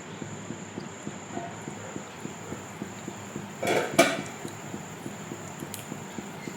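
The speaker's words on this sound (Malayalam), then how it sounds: "മൂടി വയ്ക്കാം." Lid placed on a cooking pot of tamarind fish curry on the stove, a short metallic clatter against a quiet background of regular soft ticking.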